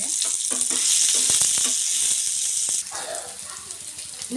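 Ginger, garlic and nine or ten cashews sizzle loudly in hot oil in a pan for a paneer masala, a close, steady frying hiss broken by stirring clicks that softens toward the end.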